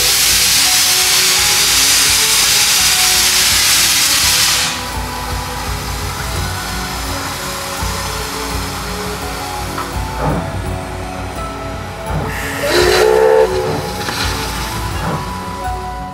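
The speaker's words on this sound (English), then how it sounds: "But a few months later, Rowan managed to film it fully restored and back in steam." Fully restored steam locomotive in Tasmania, running in steam, gives a loud roaring hiss of escaping steam that cuts off after a few seconds, leaving a rumbling engine background and a second brief burst of steam later.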